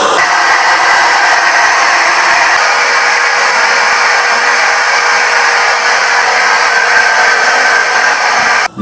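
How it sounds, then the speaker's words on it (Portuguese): A hair dryer blows steadily and loudly from start to finish, a constant airy whoosh that cuts off abruptly at the very end. "Peguei o secador de mãe, porque o meu queimou."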